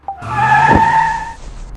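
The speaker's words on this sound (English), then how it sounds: "He suddenly pulled the car over to the curb." A car pulls over to the curb abruptly, its tires letting out a single loud, sustained skidding squeal that rises quickly and fades after about a second.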